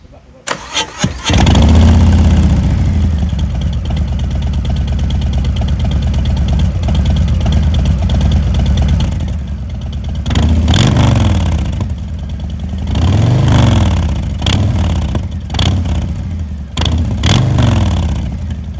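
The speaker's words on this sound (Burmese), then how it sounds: "ဒီ power exhaust အတန်လေးကိုတစ်ချက်လောက်နားထောင်ကြည့်ပါဦး" A Harley-Davidson Fat Boy motorcycle with a Vance and Hines exhaust starts up and settles into a deep, loud idle, with a few throaty revs rising and falling.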